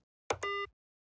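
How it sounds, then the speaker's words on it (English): Roblox Studio library button-press effect: a short two-part electronic blip, a brief noisy click followed by a bright buzzy tone lasting about a quarter second, alone in silence. "you can see that it will play the button press sound"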